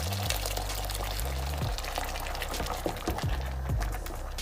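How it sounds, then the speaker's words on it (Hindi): Boiling water poured into fried lentils in a cooking pot for a kidney bean curry, a close, continuous gushing pour with bubbling and splashing, no talk over it. "इसमें हम बॉयल वाटर डालेंगे"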